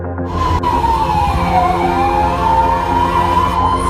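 Wailing siren of a fast-moving ambulance recorded from its dashcam, a loud continuous rising and falling tone over steady road and engine rumble, with no talk.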